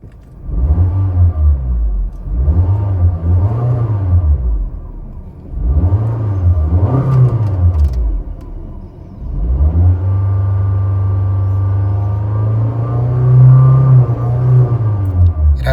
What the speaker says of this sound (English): Let's give her a few reps and check how the engine sounds from the inside.